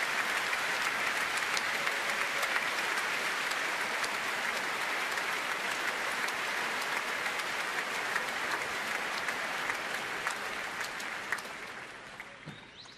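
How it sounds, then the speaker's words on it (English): Sustained, dense applause from a large concert audience after the West-Eastern Divan Orchestra plays Wagner fills the whole stretch, steady and loud before tapering slightly near the end. "From this wonderful applause that warms our hearts"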